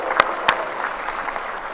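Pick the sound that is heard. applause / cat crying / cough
applause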